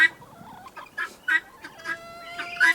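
Guinea fowl on a homestead give repeated harsh, rasping calls in short bursts, loud and close, with overlapping cries from several birds and a faint steady whine beneath.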